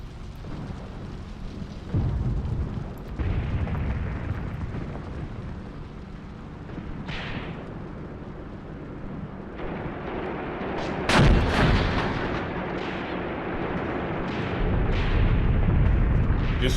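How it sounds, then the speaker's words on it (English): Artillery and mortar fire in a WW2 video game set at the Battle of El Guettar in Tunisia: rolling, rumbling blasts over continuous battle noise, with one sharp, loud explosion standing out midway. "That's just good old-fashioned artillery and mortars."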